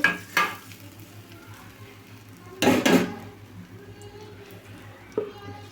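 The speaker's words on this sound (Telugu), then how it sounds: "తాలింపునైతే దీంట్లోకి వేసేసుకుందామండి" A utensil clinks, then hot tempering oil with spices hits coconut chutney in a brief loud sizzle, followed by quieter scraping and another light clink.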